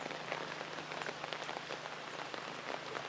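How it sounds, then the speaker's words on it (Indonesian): Heavy rain pours steadily over a village, a dense, even hiss of countless drops striking roofs and ground close by, with no pauses and no voices. "Kalau hujan ini mah bener-bener hujan"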